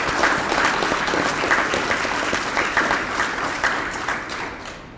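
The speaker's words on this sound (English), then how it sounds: "Let's give Marshawn a round of applause" An audience at a hospital ceremony honoring first responders gives a loud, full round of applause, dense and sustained clapping that tapers off at the very end.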